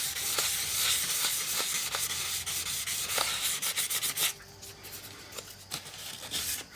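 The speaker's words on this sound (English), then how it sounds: "all I do is I just take my sandpaper and clean all them up" Sandpaper rubbed over the contacts of a stepper unit in a 1976 Bally Flip Flop pinball machine, a steady close scratchy rasping with short strokes that grows quieter toward the end.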